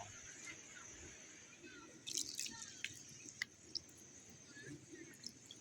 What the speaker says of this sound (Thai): ใส่พื้นใส่น้ำเลยใส่ปลาของเรา